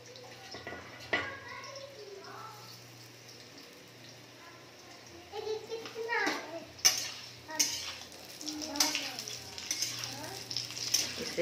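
Wheat-flour bhabhure dough mixed through ghee in a pan, with scraping, stirring and clinks of a utensil against metal that build louder and busier in the second half over a faint steady hiss.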